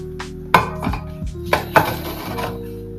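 A metal lid is set onto a boiling pressure cooker of cabbage curry, giving a few sharp, close clanks and rattles spread over a few seconds.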